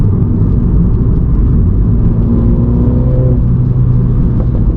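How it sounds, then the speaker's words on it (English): A Mini JCW F56 with its stock exhaust, driven in sport mode, gives a loud steady engine drone with a deep rumble and a brief rising whine partway through, heard from inside the car. "put it in sport, listen to the car come alive."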